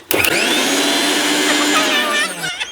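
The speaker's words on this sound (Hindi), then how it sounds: "तनी मिक्सी चला सुनावा था हमें" A mixer grinder whirs loudly at high speed after a brief clatter at the start, holding a steady whine before winding down near the end.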